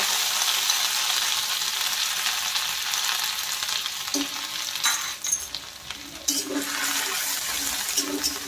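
Crushed green chilli, ginger and garlic dropped into a hot tempering of mustard seeds, cumin and asafoetida, giving a loud continuous sizzle with scraping stirring sounds partway through.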